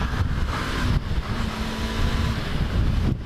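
Wind buffets the microphone in low rumbling gusts, with a vehicle's drone underneath.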